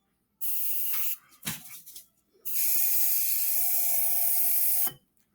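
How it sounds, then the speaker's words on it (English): Hairspray sprayed quickly into a glass jar: a short hissing burst, a brief clatter, then a longer steady spray lasting over two seconds, close and loud. "I'm going to take hairspray and I'm actually going to spray it real quickly into the jar"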